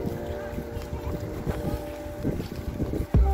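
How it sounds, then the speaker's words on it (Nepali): Wind blowing across a maize field planted together with paddy and flowering soybeans, a steady rough buffeting against the microphone with low rumbling gusts and a sharp thump near the end. "धेरै सिरो हावा कति राम्रो आइरहेको छ"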